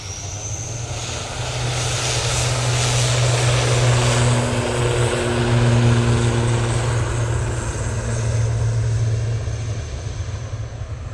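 A propeller aircraft passes at Manchester Airport, its droning engine and steady propeller hum swelling loud and then easing slightly as it goes by, with no voices over it.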